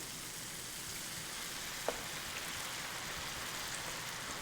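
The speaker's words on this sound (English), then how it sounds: "Let's add a little wine." Red wine sizzles in a hot pan while beef stroganoff cooks, a steady, fairly quiet hiss that holds throughout, with one small clink partway through.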